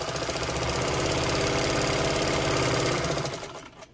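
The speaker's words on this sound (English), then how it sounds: "And this machine will really sew." A Deluxe Clone 15 Japanese-made sewing machine stitches at speed, its motor whirring in a fast, even mechanical rhythm close up, then slowing and stopping near the end.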